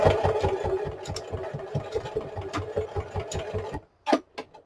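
Sewing machine stitching through a book spine, a fast, even run of needle beats close by that stops abruptly near the end, followed by a couple of faint clicks.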